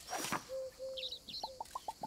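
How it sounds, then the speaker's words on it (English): A house sparrow calling in the video game Alba: A Wildlife Adventure: a soft, clear whistle, high thin chirps, then a quick run of short, evenly spaced chirps, all faint and close. "House sparrow."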